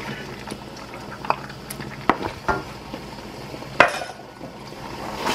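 Red curry paste being stirred into coconut milk and vegetable oil in a pan for Lao kang pet chicken curry, with soft liquid sloshing and several sharp utensil scrapes and clinks against the pan, close by, no speech.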